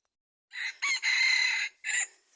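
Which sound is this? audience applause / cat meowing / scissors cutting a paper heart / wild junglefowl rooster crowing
wild junglefowl rooster crowing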